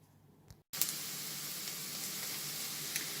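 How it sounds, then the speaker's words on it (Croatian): Onion sautéing in a pan sizzles steadily and close up after a brief click and a moment of silence, a constant crackling fry with occasional pops. "ja sam već stavila luk da se dimsta"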